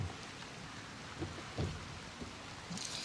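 Faint, steady patter of light rain with a few soft drips and thumps standing out now and then.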